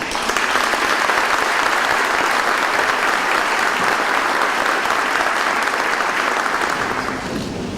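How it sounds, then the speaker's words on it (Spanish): A large audience at a constitutional law congress in Santo Domingo gives strong, sustained applause welcoming a magistrate, a dense even roar of clapping that holds steady for several seconds and eases slightly at the end. "solicito me acompañen a recibir con un fuerte aplauso al magistrado Milton Ray Guevara"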